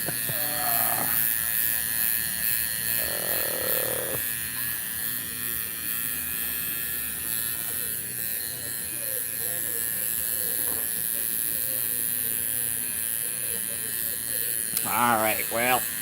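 A tattoo machine buzzes steadily while someone tattoos a palm. The whine runs continuously through the whole stretch, with people chatting and laughing over it.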